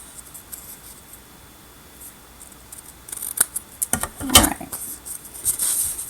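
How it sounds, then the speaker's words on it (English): Scissors snip through paper during a folded card craft: a quiet stretch, then a short run of crisp, close cuts, one sharper snip standing out, with no talking. "Now I'll just come in, cut the tail again."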